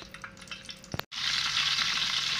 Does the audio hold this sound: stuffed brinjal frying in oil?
yes